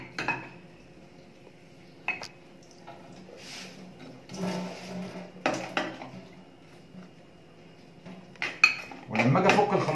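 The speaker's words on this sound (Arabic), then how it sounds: "هفك الخلاط بره خالص" Sporadic metallic clinks and clatters of small parts and tools being handled while dismantling a kitchen faucet, with soft shuffling between the sharper knocks.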